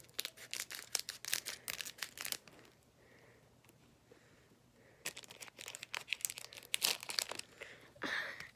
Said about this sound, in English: Alright, let's grab my scissors.